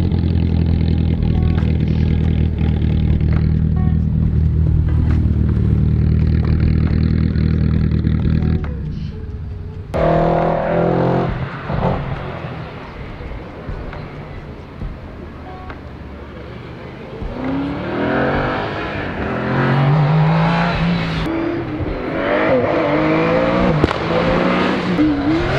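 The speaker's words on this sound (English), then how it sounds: "This 924 sounds pretty good." A Porsche 924 engine at the Prescott hillclimb, British and Midland Championships, roars loudly and steadily before cutting off; afterwards a quieter mix of engine noise and crowd sounds follows, with a voice briefly audible.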